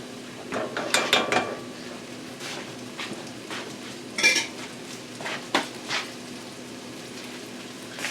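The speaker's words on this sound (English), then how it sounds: "I'm going to stir them to coat them with the sauce" A utensil scrapes and clinks against a metal pot while fettuccine noodles are stirred into a sauce, with a scattered, irregular clatter over a steady kitchen hum. The sounds are close and there is no talking.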